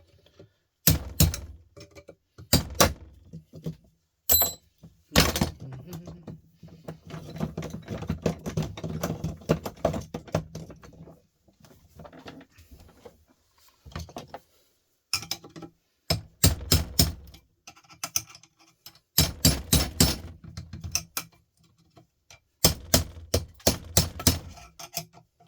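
A small driver is hammered against parts of a motor held in a vise: clusters of sharp metallic knocks in quick bursts, separated by quieter pauses of scraping and handling, close and without talk.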